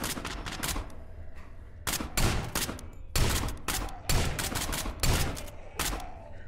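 Shotgun fire in the co-op video game SCP: Pandemic comes as rapid, loud blasts in uneven bursts, layered over a steady background rumble and continuing throughout.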